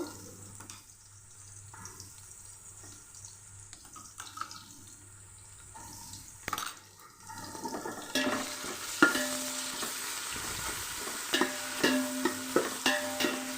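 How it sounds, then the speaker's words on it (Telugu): Ginger garlic paste, two spoonfuls, frying in a pan over softened onions, a quiet sizzle that grows louder as it is stirred, with scraping stirs and clinks in the second half. "అల్లం వెల్లుల్లి పేస్ట్ బాగా వేగాలండి, పచ్చివాసన పోయేవరకు"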